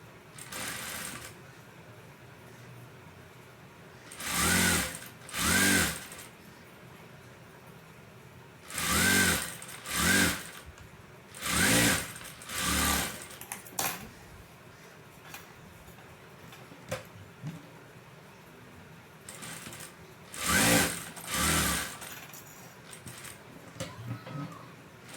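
Sewing machine stitching a blouse in short separate runs of a few seconds each, close and fairly loud, with quiet gaps between bursts.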